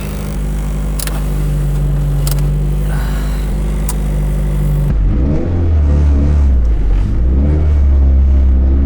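A tuned Toyota JZX100 with a 2JZ engine making about 500 hp revs steadily with a deep droning exhaust note, then the pitch wobbles and rises as it accelerates, loud and close throughout.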